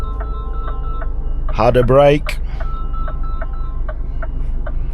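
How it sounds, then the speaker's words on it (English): A phone rings briefly inside a truck cab, a short warbling ringtone over the steady low engine drone, while someone speaks. "the phone's ringing"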